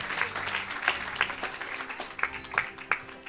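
A church congregation bursts into steady applause, with several sharp louder claps standing out over the continuous patter.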